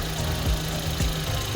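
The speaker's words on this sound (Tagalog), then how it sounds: "Ang pukusan natin yung tunog ng makina." Suzuki DA64W wagon engine with turbo idling, a steady low drone with a couple of faint periodic dips, close and unbroken with no talk.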